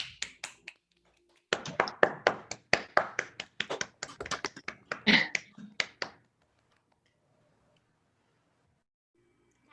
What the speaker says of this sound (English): give a big round of applause for these two speakers today